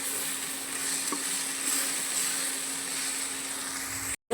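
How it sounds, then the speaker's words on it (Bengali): Vegetables being stir-fried with spices in a pan for a fish curry made with metha caught from a canal, a steady, soft sizzle holding evenly throughout with a faint hum and a brief dropout at the end. "সবজিটাকে আমি ভালো করে একটু নাড়িয়ে নাড়িয়ে কষিয়ে নেব"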